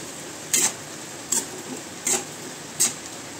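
Boiled tapioca with turmeric mixed in a pan, four evenly spaced scraping strokes of a spoon over a quiet background.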